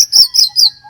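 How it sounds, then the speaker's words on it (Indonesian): Orange-headed thrush singing, three quick bright chirping phrases in a short rhythmic burst, close and loud with no other sound. "Di saat anis merah berkicau atau biasa kita sebut yaitu dalam gaya teler."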